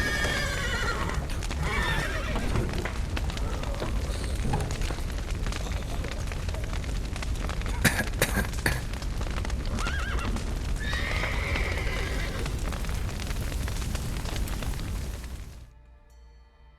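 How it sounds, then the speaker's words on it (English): Horses neigh and whinny repeatedly over the clip-clop of hooves in The Witcher 3 video game, set amid a dense, noisy scene, with the commotion continuing steadily before cutting off abruptly near the end. "The horses!"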